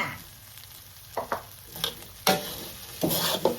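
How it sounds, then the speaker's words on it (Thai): Sticky rice with coconut milk and sugar being stir-fried in a pan, heard as a few separate scraping stirs and soft sizzles in close succession with quiet gaps between, and no one talking. "แล้วก็คน ผัด ให้น้ำตาลละลายเข้ากับข้าวดีค่ะ"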